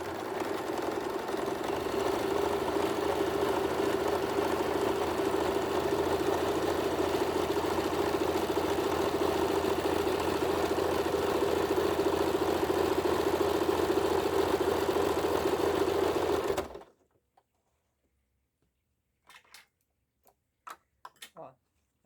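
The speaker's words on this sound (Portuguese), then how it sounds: "Eu vou passar um zigue-zague aqui para vocês verem como que fica o resultado" A sewing machine running a zigzag stitch on synthetic wallet material, a loud, steady whirring drone for about seventeen seconds that cuts off sharply, followed by a few faint clicks and handling noises.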